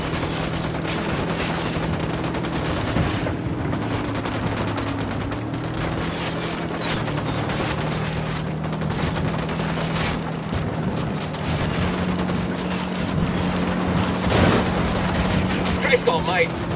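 A firefight in Ghost Recon Wildlands: rapid, dense automatic gunfire keeps going loudly under spoken lines and a steady music bed.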